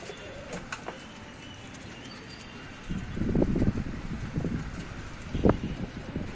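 Pigeons kept for sale in Tanta coo softly at close range, a few low throaty calls rising over a quiet background hiss in the latter half.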